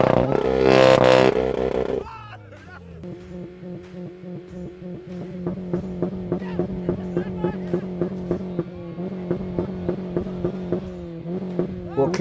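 Two Honda cars face off in a rev-off, one engine roaring briefly before the other takes over with a steady series of rhythmic blips, each rev rising and falling in quick succession, loud and close.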